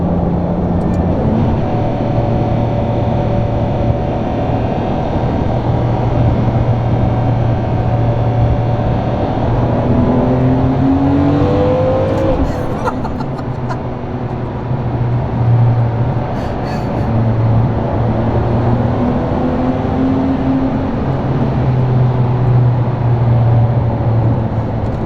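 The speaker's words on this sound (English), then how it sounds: "Oh, you gotta love that car. The V12 sounds amazing," A V12 sports car engine roars continuously at close range, its pitch rising and falling as it revs through the gears at speed.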